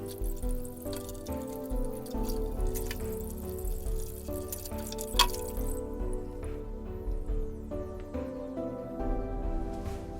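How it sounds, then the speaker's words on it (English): Potatoes being washed in water, with soft splashing, dripping and squelching sounds that continue at a steady close range, while a low background hum runs underneath. "Wash the potatoes completely soil-free."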